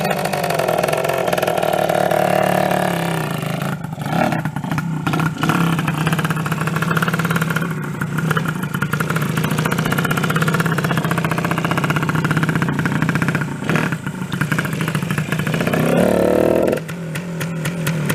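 Two classic Suzuki TS250 two-stroke motorcycles, one with a reed-valve engine, run together close by. The loud, buzzy idle holds steady throughout, swelling and dipping as the revs shift.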